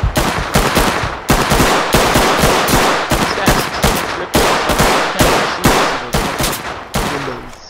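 Rapid gunfire from the tactical shooter game Ready Or Not: dense, loud bursts of automatic shots fired in quick succession, a sustained mag dump with brief gaps between strings of rounds, heard without talk.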